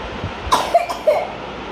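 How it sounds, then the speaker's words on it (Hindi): A child coughs at home during a lockdown Eid, giving three short, close, dry coughs spaced about a quarter second apart over a faint background hiss. "यहाँ पर खांसी हो रही है"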